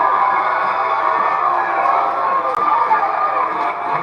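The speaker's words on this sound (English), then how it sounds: "They really are booing Dax the Axe here." A wrestling arena crowd boos a wrestler called Dax the Axe, a dense, steady roar of many voices that fills the hall evenly throughout without letting up.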